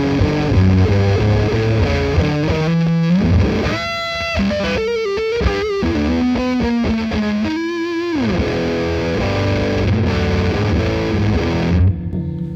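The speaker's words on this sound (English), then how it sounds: "Okay, so let's fuzz it up." An electric guitar plays fuzzy, heavily distorted riffs and chords, thick and saturated, loud and up close with no voices.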